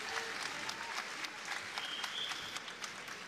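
Spectators at a European karate championship give sustained applause, many hands clapping at a fairly distant, even level, with a faint whistle-like tone mixed in.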